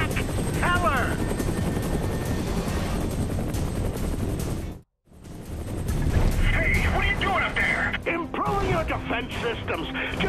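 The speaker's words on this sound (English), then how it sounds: "Just fly the fucking helicopter!" A military gunship helicopter in the video game Prototype 2 flies during a combat mission, its dense rotor roar steady and loud, mixed with game effects and voices, with a brief dropout midway.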